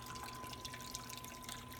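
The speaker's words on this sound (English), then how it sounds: "So I'm going to start the water." Water running over a sand model of a river at an outdoor nature centre lesson, a continuous gentle trickle and splash with a faint steady hum underneath.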